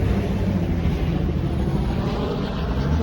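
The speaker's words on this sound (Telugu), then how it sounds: "పైన హెలికాప్టర్లో పెట్రోలింగ్ జరుగుతుంది" A patrol helicopter flies overhead during Fourth of July celebrations in the USA, giving a steady, loud, low rumbling drone that holds evenly throughout, with no voices.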